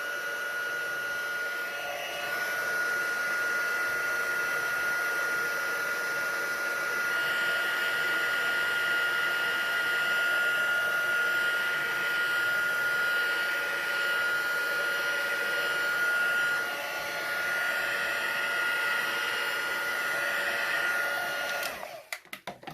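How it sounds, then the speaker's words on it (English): A handheld craft heat tool blows with a steady, droning whir as it dries freshly stamped ink on a card. The tone stays close and constant for about twenty seconds, then cuts off with a few clicks. "I'm going to use my heat tool."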